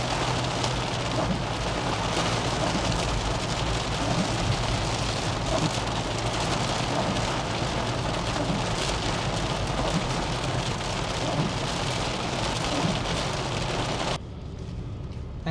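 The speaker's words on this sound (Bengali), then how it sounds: "বৃষ্টি ইন্টেন্সিটি দেখছেন, কি বড় বড় ফোঁটা একটা।" Heavy rain with big drops pounds steadily and loudly on a car, a dense continuous roar that holds for most of the stretch before dropping off sharply near the end.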